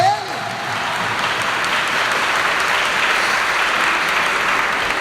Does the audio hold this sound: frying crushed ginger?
no